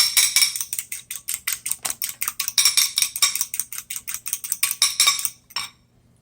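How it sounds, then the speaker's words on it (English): Eggs are beaten briskly in a bowl for banana pudding, a fork or whisk clicking against the sides in a fast, even rhythm that stops near the end. "we'll beat these eggs. We're just going to mix them up good"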